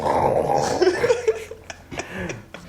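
A voice imitates a low, rough dog-like growl, a sustained guttural rumble with a few choppy bursts, close and fairly loud, fading into quieter noise.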